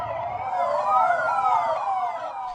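Delhi Police vehicle sirens wail loud and close, several rising and falling tones overlapping in a continuous sweeping howl around a gurdwara.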